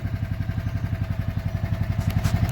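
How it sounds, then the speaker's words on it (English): Small go-kart engine running steadily on a rural property at evening, a loud, close, rhythmic thumping putter that holds an even pace throughout with no voices. "So this was his solution to get back up here, was Braden's go-kart."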